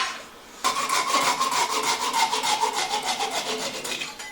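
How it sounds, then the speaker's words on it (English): A hand saw cuts through a solid wood workpiece, starting abruptly after a quiet moment. It rasps in a fast, steady back-and-forth rhythm, close and clear with no talk. "we'll cut it off with a saw"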